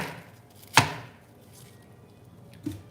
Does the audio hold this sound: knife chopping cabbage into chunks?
yes